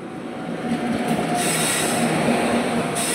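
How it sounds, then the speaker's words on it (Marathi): A train pulling into a railway station, steady loud rumble of rolling wagons with a thin metallic wheel squeal rising partway through, close by and continuous, with no talk. "आणि आता फायनल रेल्वे आलेली आहे."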